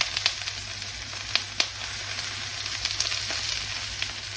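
Steady close sizzle of tomatoes frying in olive oil, a constant hiss with a few soft pops and light stirring clicks near the start.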